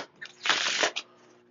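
A deck of RobotLab game cards is shuffled once in a quick riffle, a brief papery flutter close to the table.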